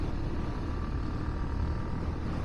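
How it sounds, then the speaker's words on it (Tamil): Steady, dense road noise comes from motor vehicles streaming past one after another on a busy Sunday road at Dhanushkodi, India. It forms a continuous, fairly loud rumble and roar with no distinct pauses. "வண்டி வந்து போயிட்டே இருக்கு அடுத்தடுத்து."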